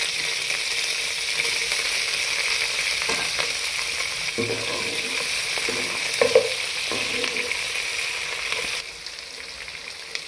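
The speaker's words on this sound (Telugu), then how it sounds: "కాస్త 2-3 పచ్చిమిరపకాయలు వేసుకున్నాను." Green chillies and onions fry in a pan, a steady bright sizzle with scattered stirring scrapes and clinks; the sizzle drops noticeably quieter near the end.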